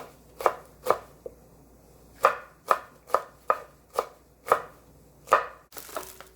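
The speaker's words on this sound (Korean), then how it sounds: "홍고추하고 청양고추 송송 썰어줍니다." A knife chops red chili and cheongyang chili peppers on a cutting board with about a dozen crisp, close strikes. The chops come in irregular bursts with short pauses between them.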